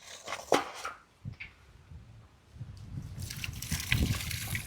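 Water sloshes and splashes in uneven bursts as mutton is washed, close by, with trickling and dribbling between the louder gushes and no talking.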